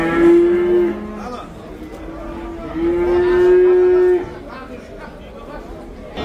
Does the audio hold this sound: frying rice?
no